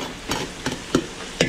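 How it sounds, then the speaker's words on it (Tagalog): Garlic and onion sautéing in a pan while catering for a large group: a sizzle runs under four sharp stirring scrapes spaced roughly every third of a second, close and moderately loud. "papupulayin muna natin itong bawang sibuyas mga Beli"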